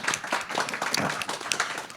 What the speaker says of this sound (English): who deserves a hand clap